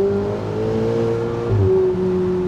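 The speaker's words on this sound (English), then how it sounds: "give them a little bit of those exhaust notes" Ferrari 488 Spider exhaust note, loud and close, a sustained engine tone that rises slightly and shifts pitch midway as the car revs while driving.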